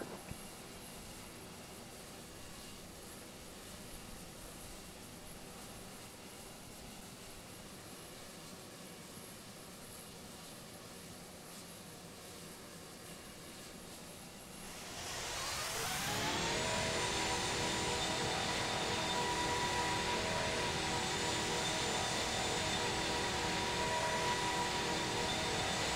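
A jet airliner takes off from runway 24 left at Los Angeles International Airport: a steady distant engine roar builds abruptly to a loud, full thrust rumble with a high whine that holds to the end.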